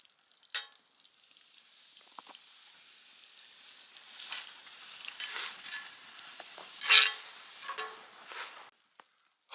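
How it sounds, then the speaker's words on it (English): Butter sizzling and starting to burn in a hot pan during cold winter car camping, a soft steady frying hiss with occasional crackles and pops, close but fairly quiet, no voices. "it's clearly hot, but the butter drifted all over to the one end, and it caught fire a little bit."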